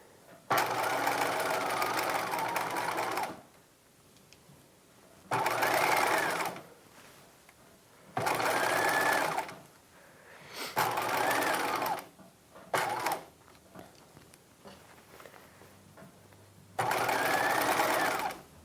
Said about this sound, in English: And now just sew as normal until you get to the other flap.